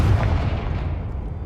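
A Confringo blasting spell in a Harry Potter video game bursts with one heavy booming explosion at the start, then rumbles and decays away over the next second.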